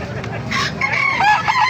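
Many caged chickens and roosters at a busy Baliuag market, with several crows rising over a steady din of clucking and crowd noise, close and fairly loud.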